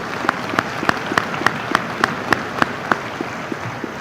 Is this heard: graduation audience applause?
yes